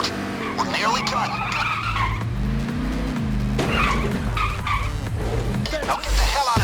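A car driving in the heist game Payday 2 at a car shop, its engine droning steadily with rising and falling revs and tire skids, close and loud throughout, with a voice talking over it.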